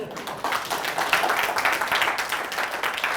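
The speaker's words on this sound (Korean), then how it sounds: "박수 한번 쳐줘서 좋고." Audience clapping during a Korean feng shui seminar lecture, a dense steady patter of many hands lasting the full few seconds at moderate volume, with no talk over it.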